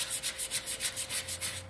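Sandpaper is worked by hand over painted furniture with chalk-style paint, giving a close, even series of about ten rhythmic scratchy strokes with no talking.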